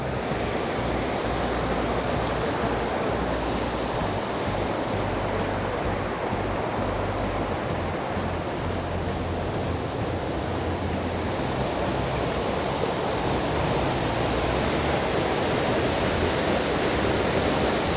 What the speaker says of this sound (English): I think this is the water coming from the